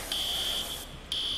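A building fire alarm in Brooklyn sounds a loud, steady electronic tone that cuts off briefly and then resumes, heard alone over a low background hum.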